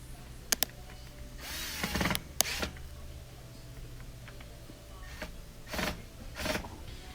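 Screws being driven with a power drill while reinstalling a part on an LG dishwasher under repair: several short, fairly quiet whirring bursts separated by pauses, with small clicks and handling noises and no talk.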